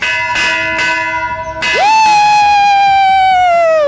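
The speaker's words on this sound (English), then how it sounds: "Ring that bell!" A bright bell strikes several times, then rings out with a long sustained tone that slowly fades, while a crowd cheers faintly.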